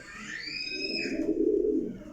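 Pigeons cooing close by in a loft, a soft, rolling low coo swelling and fading over a couple of seconds, with a brief chirp-like higher call at the start.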